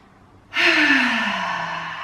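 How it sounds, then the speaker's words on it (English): One deep breath taken during a yoga exercise, a sudden airy sigh that tails off gently over about a second and a half. It is loud and very close, with nothing else heard. "Take one more breath."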